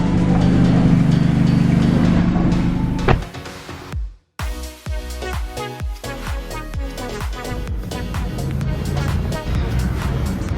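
Mitsubishi Lancer Evo X with a new dual exhaust pulling away: an engine note that drops off, a brief near-silent gap, then renewed driving sound with rumbling exhaust tones.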